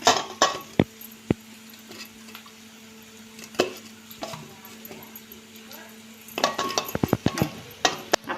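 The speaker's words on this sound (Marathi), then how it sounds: "याला परतून घेतल्यावर आपण याच्यामध्ये कुरडई कुस्करून, ही कुरडई अशी कुस्करून घ्यायची" Kurdai being crumbled and stirred in a frying pan for Maharashtrian kurdai bhaji, heard as scattered scraping, clinks and rustles, sparse at first and busier near the end, with a faint steady hum beneath.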